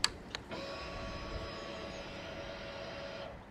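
A Kawasaki Z900RS motorcycle's ignition switches on with two sharp clicks, then a faint electric hum and whine as the dash powers up, holding steady for about three seconds before cutting off.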